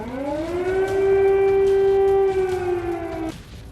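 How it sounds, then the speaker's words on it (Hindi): Air raid siren sounding in a silent Ukrainian city during Russian missile attacks, a single wailing tone rising and holding steady before cutting off, heard from a distance with no other sound. "शहर में पसरे इस सन्नाटे को दूर से आ रही सायरन की आवाज तोड़ रही है"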